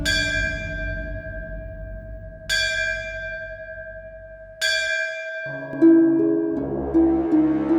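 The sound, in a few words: temple bell ringing loudly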